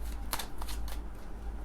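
Tarot cards being shuffled and drawn by hand, a few quick papery riffles and slides close up over a low steady hum, with no talking.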